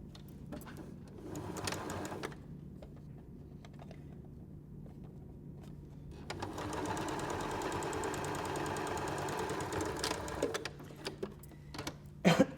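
A sewing machine runs in two steady bursts while stitching a seam on an arrowhead star quilt block, with a short whirring run at first, then a pause and a longer, louder stretch of rapid mechanical stitching close by.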